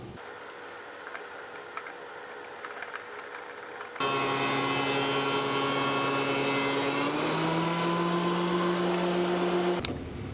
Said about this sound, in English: running it through the planer on the far right side